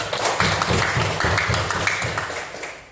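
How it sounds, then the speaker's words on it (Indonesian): An audience in an Indonesian classroom applauds after a group presentation, with steady, rhythmic clapping that fills the room throughout. "Berikan aplaus"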